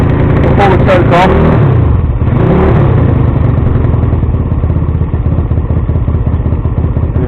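A GSXR 50cc motorcycle engine idling right after its first start, a loud, close, steady putter with a rough mechanical clatter and a brief throttle blip early on.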